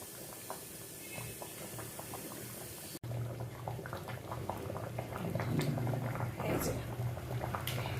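Chicken jhol, a Bengali chicken curry with hot water added, bubbles in a pot covered with a lid, giving close, steady popping and gurgling that grows a little louder toward the end.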